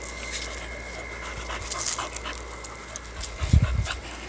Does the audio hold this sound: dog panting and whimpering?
yes